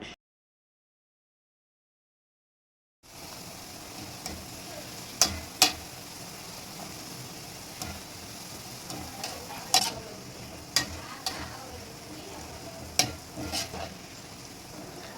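Onions frying in oil with a small amount of sugar, a steady crackling sizzle with scattered sharp pops and stirring clicks, starting after about three seconds of silence; no voices.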